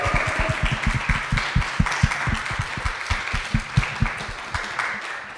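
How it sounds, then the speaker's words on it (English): An audience at a youth writers' flash fiction festival award ceremony applauds the winners with sustained, moderately loud clapping and a few stronger hand strikes, fading slightly toward the end. "just a round of applause for the winners and for everyone"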